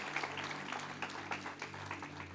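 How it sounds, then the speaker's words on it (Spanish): A brief stretch of soft, dense applause from a church congregation, many hands clapping together at a distance without a break. "Denle el aplauso al Señor en alabanza."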